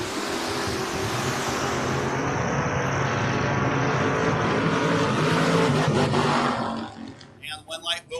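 Drag racing cars, a Big Green Racing Pontiac hot rod and a Chevy Colorado, roar loudly and steadily side by side toward the finish line, their engine noise fading and breaking up over the last second.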